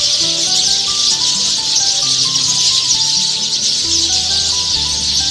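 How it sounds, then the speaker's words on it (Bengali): Birds call from trees on a winter evening in Halishahar, scattered tonal chirps and short whistles overlapping one another over a steady, dense insect-like hiss, continuous throughout with no voices. "এখন এই ডাকগুলোই খুব বিরল, তাই না? শোনাই যায় না খুব একটা।"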